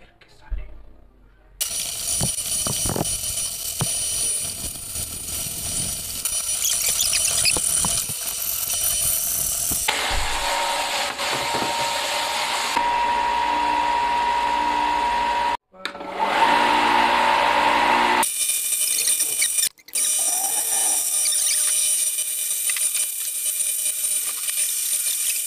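Cast copper keys being polished and filed with a power tool that runs as a loud, steady whine in several long stretches, switching on and off with brief pauses between passes.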